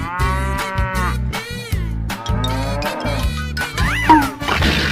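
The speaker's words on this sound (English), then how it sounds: "Cow." A cow moos in long, loud, close calls that repeat with short gaps, some rising and bending in pitch, with a cartoon-like edit feel.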